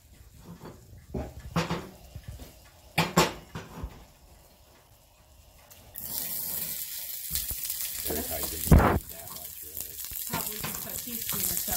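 Oil sizzles in a pan with carrots and onions, a steady hiss that swells after a few seconds of scattered kitchen clatter and stirring, with a sharp utensil knock near the middle.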